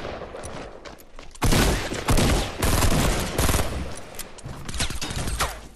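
Rapid bursts of gunfire in the video game Fortnite, several loud, dense volleys of shots in quick succession with short gaps between them.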